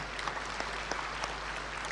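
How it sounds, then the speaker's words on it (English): Audience at a formal lecture hall event claps softly and steadily, a faint, continuous patter of applause heard from a distance over a low hum. "Let's give them a big round of applause."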